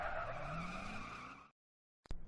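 Car tires screech in a long skid as a police chase ends in a major crash, a loud sustained squeal that cuts off abruptly, followed by a sharp impact-like burst.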